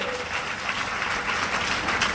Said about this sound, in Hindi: तो उन सबके लिए भी आप जोरदार तालियां बजाइए